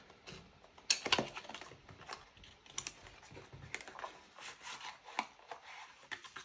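Edifier X3 Lite earbuds being unboxed, with close, quiet rustling, scraping and clicking of packaging being handled in irregular bursts, no speech.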